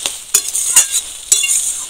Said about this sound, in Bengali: এইভাবে একটু নাড়াচাড়া করতে হবে